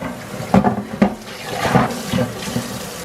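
Tap water runs into a sink while dishes are washed at home, a near, moderately loud splashing flow with brief clattering bursts and uneven surges, no voices.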